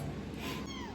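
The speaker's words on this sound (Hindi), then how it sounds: "ये बिल्ली देखो कितनी प्योरी बिल्ली, म्याऊं कर दे, म्याऊं" A cat gives one clear, drawn-out meow, close and fairly loud, filling the whole brief moment.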